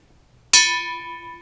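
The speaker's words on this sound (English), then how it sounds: "it's a thick wall bell" A thick-walled antique Japanese bell is struck once, giving a sharp attack that settles into a deep, steady ringing tone with clear overtones, close and alone.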